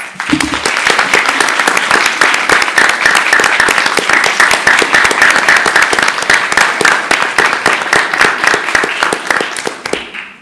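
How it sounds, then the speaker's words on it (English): An audience at a school district board meeting claps continuously for about ten seconds, producing steady, dense applause before it tapers off at the end. "let's give these 4 a round of applause"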